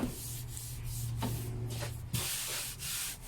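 Sandpaper rubs over car body work, a steady close scratchy hiss made of repeated strokes with a low hum underneath, no speech.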